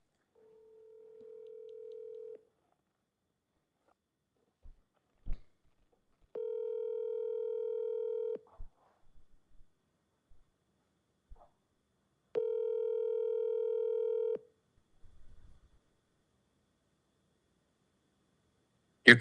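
Ringback tone of a telephone call being placed: three steady, even beeps of about two seconds each, spaced roughly four seconds apart with near silence between, followed by a brief click at the end.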